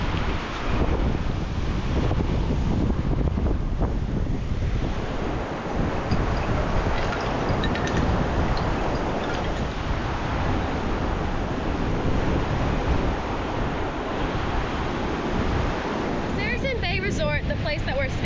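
Strong wind buffets a microphone on Koh Rong Samloem island in Cambodia, a loud steady roar with rumbling gusts and a surf-like wash, continuous throughout.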